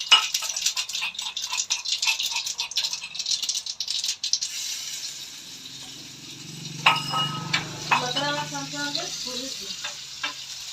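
Mustard seeds, cumin and garlic crackle and pop in hot oil in a frying pan, starting as a loud, busy rattling spatter, then settling into a softer, steady sizzle with a few clinks from a wooden spoon.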